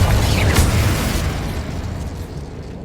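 A Confringo spell explosion in the Hogwarts Legacy video game, one loud, close boom that bursts out at once and then fades into a long rumbling tail.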